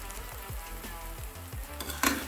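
Seasoned eggs with cheese frying in a pan over a lowered flame: a steady, moderate sizzle with a few soft knocks and a brief sharper scrape near the end.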